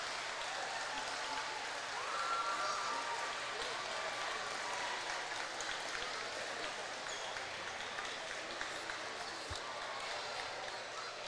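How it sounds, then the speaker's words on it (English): A crowd at a high school basketball game in a full gym during the starting lineup gives sustained applause and cheering. The noise is steady and moderately loud, with a diffuse, distant roar. "This crowd's amped up, ready to go."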